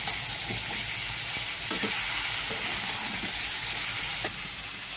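Vegetables for labra curry fry with cumin powder in a pan, giving a soft, even sizzle and hiss with a few faint stirring scrapes, steady throughout and fairly quiet, with no voices.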